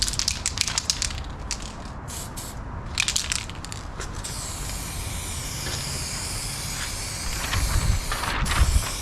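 Touch-up spray paint hisses from an aerosol can as a wet second coat goes onto a car panel, with short bursts at first and then a long continuous spray, close and loud.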